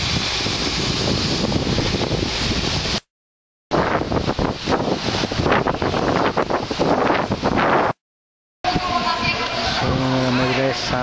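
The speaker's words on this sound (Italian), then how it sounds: "Molto ventoso." Strong wind buffets the microphone in Samarkand, Uzbekistan, a loud continuous roar broken by two brief silent gaps, with a faint tonal hum in the final stretch.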